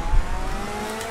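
A race car in the DTM Experience game accelerates hard out of a corner at Moscow Raceway, with a short, steady engine roar that stays loud and close throughout.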